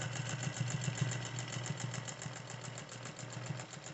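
A vintage 1948 Singer 201 sewing machine hums and stitches steadily during free-motion quilting, its fast even needle pulses running close and continuous with no talking.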